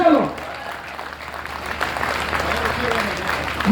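An audience at a poetry recital during the Jalore festival claps steadily, a full, sustained round of applause from a large crowd filling the whole moment.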